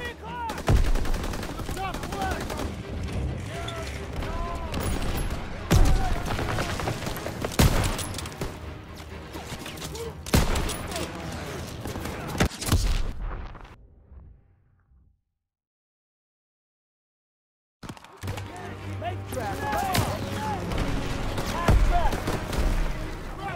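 Loud machine gun bursts and rifle fire crackle almost nonstop in a Call of Duty WWII battle, with shouted voices and explosions mixed in, then a few seconds of silence before the gunfire resumes.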